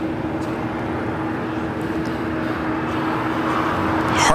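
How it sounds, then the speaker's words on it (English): A Turkish Airlines Airbus A350 airliner pushes back at LAX, giving a steady, distant jet engine whine and rumble that holds level throughout and swells slightly near the end, with no voices. "Turkish A350 pushing back, looking like it could be a north side takeoff."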